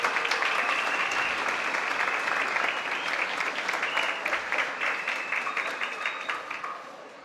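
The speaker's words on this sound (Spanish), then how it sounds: "Fuerte el aplauso para el Ministerio de Ambiente." A crowd at a regional oratory contest final in Veraguas gives a strong, sustained round of applause that holds dense and even, then thins out and fades over its last seconds.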